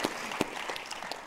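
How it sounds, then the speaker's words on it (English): Audience applause at a public speaker series event with a city mayor, a moderate wash of clapping from a crowd with a few sharper individual claps standing out, heard without speech. "your applause really helps"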